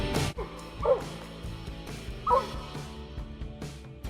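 A coonhound barks twice in the distance near a den tree while coon hunting, spaced apart, with musical tones and soft yips over a steady outdoor background.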